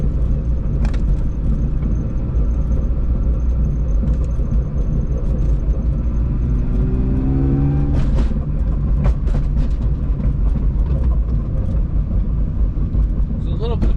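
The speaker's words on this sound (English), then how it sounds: "It's a little bit clunking, but I don't think it's from the rear diff, so I think we're good there." A BMW E36 with a rewelded rear differential drives along with a steady low road rumble and a few faint clunks, while people talk over the engine noise from inside the car.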